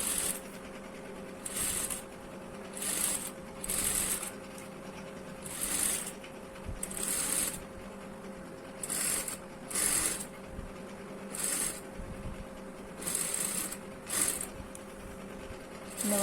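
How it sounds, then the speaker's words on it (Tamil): Sewing machine stitching the round neckline of a blouse, running in short repeated bursts of a few seconds each with brief pauses between as the fabric is turned, fairly quiet and without talk. "படிமான தையல் மேலே போட்டு எடுத்துக்கோங்க"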